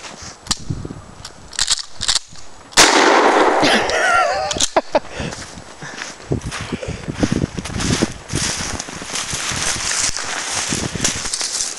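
Shotguns fire at skeet targets outdoors: sharp reports and clacks are spread through the clip, with one loud blast that rings out, under wind noise and scattered voices.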